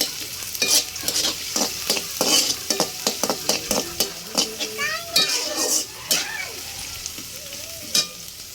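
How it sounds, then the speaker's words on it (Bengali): Spice paste frying in oil in a wok, sizzling with a series of sharp stirring and scraping clatters close by, joined by faint voices in the background. "কড়াইতে তেল দিচ্ছি, এখন পেস্ট দিব।"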